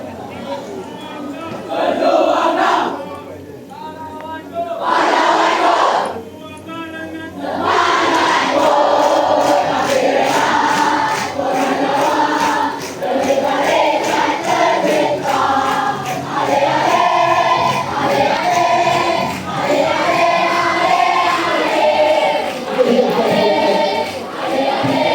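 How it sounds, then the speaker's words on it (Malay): Students cheering loudly together for their yellow house team at a school run event, sustained chanting and shouting voices in rhythmic bursts, close and intense throughout. "sorakan paling kuat Rumah Kuning"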